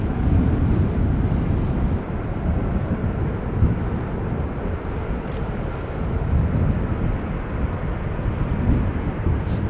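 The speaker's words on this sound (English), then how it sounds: "I think this might be KLM Flight 427 going to Dubai. 787-10 Dreamliner." A KLM Boeing 787-10 Dreamliner airliner roars steadily at Amsterdam Schiphol, a broad continuous jet rumble mixed with gusty wind buffeting the microphone, loud and sustained with no talk.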